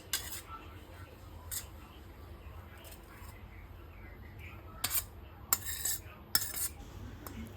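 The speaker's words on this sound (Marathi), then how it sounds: "ती आपण व्यवस्थित एक चमचा स्पून घेऊन व्यवस्थित मिक्स करायची आहे आपल्याला ती" A metal spoon mixing vegetables into biryani rice in a pot: soft scraping and stirring with a few sharp, bright clinks against the vessel, close by and fairly quiet, without talk.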